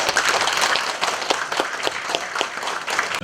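Seminar audience applauding a presenter, steady mid-level clapping from a roomful of people with crisp individual claps standing out.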